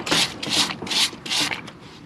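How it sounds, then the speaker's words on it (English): A stiff parts cleaning brush scrubs heavy rust off the spindle and locking hub of an '86 Ford Ranger 4x4, four or five quick rasping strokes in a steady rhythm, close and alone. "I'm going to use that just to clean the heavy stuff off the spindle and the locking hub."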